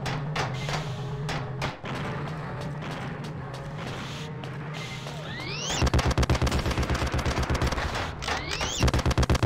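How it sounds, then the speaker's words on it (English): Rotating-cylinder cannon machine gun in the steampunk shooter The Principality of Mars fires in a loud, rapid continuous burst after a stretch of busy game noise, with a brief pause and then a second volley. "Well, that is a machine gun. There we go. Look at this. Rotating cylinder cannon."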